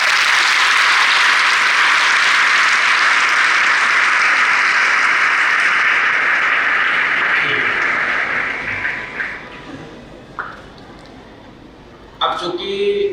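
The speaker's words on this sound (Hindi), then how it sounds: "उनके लिए ताली बजा।" Students in a school hall applaud together in a long, dense burst of clapping that gradually fades out, followed by a few scattered claps.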